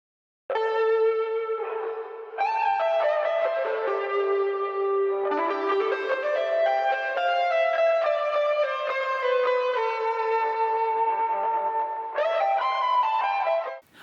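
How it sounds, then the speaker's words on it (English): Lead electric guitar track with effects such as echo and reverb, a flowing melodic line of bell-like sustained notes ringing over each other, played alone without talk. "When it comes to the lead guitar, which sounds like this,"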